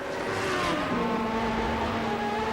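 A red Ferrari Formula 1 car races at Monza in 1981, its high engine whine held steady and loud with a slight pitch drop mid-pass, set against a continuous roar of track noise.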